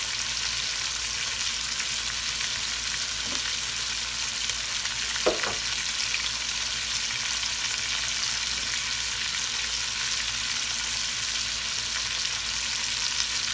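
Beef shoulder, rubbed with seasonings, sears in a hot pan with a steady, close sizzle that holds throughout, broken by a couple of brief scraping clinks of a utensil against the pan.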